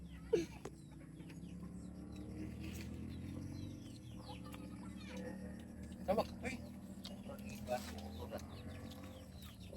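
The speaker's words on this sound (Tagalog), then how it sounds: "Ayun ang mga manok." Chickens clucking on a rural farm in the provinces, scattered short calls at moderate distance over a low background hum, with people talking nearby.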